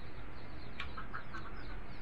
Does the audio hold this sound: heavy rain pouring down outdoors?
no